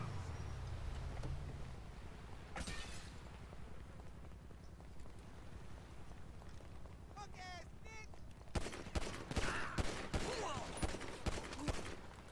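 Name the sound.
gunfire in GTA 5 roleplay video game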